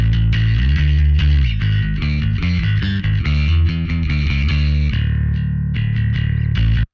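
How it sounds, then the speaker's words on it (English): A heavy, distorted bass guitar tone plays a thick, loud riff with chunky sustained low notes and rhythmic attacks, alone and continuous before stopping abruptly. "Very typical bass tone for what I do."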